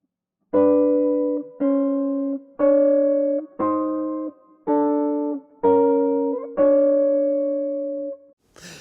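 Seven separate two-note wide-interval chords on an overdriven electric guitar, each held about a second, evenly spaced and clear, with silence at the start.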